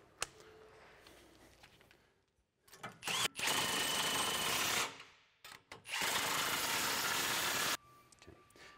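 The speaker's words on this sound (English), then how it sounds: "we'll use a 15/16 inch deep well socket to tighten down all the U-bolts on the front end." A power tool fitted with a 15/16 inch deep well socket tightens U-bolts on a vehicle's front end, running in two long, loud, close bursts separated by a short pause, with no talk.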